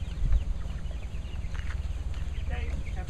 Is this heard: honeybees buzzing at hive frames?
no